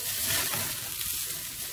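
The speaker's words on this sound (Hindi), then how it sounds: "अब मैं यहाँ इसमें तड़का लगा दिया हूँ।" Tadka spices sizzling in hot oil for a lauki chana dal dish, a steady, close crackling hiss with soft frying bubbles that holds evenly throughout, with no talking.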